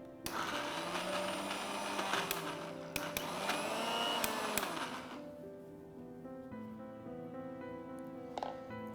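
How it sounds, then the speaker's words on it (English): Green peas mixture for kachori filling being ground in an electric blender, a steady loud whirring drone for about five seconds, then the motor winds down and stops, leaving a fading hum. "So while grinding the mixture, you have to keep checking the mixture so that you get a right consistency."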